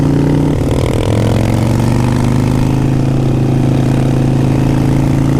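A Harley-Davidson 883 Iron motorcycle engine idles close by, a loud, steady low rumble with a slight shift in its pulsing early on, continuing evenly with no talk.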